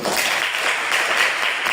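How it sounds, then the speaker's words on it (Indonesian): Applause for a student named Yuli fills a classroom lesson on solar panels, a steady patter of many hands clapping at even loudness for nearly two seconds with no talk over it. "Tepuk tangan untuk Yuli"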